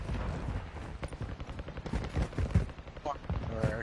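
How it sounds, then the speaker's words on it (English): Gunfire from an online shooter video game: a dense spread of bursts and single shots sounds over several seconds amid game ambience, with brief voice chatter at times. "Wait, somebody's shooting."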